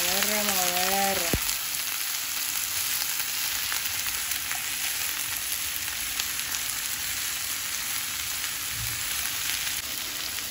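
Cod stew with vegetables sizzles in a pan over lowered heat while being stirred, a steady, close crackling hiss that runs unbroken, with a brief wavering tone at the start.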